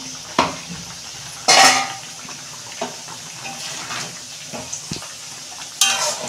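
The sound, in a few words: lid being taken off a pot of fish curry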